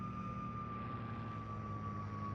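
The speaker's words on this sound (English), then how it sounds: "You can hear that whine of the Merlin engine there, the P-51." A P-51 Mustang's Merlin engine whines in IL-2 Sturmovik, a steady, sustained high-pitched tone over a constant engine drone with no pauses.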